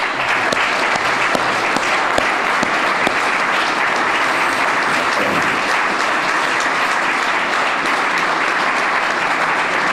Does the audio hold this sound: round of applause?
yes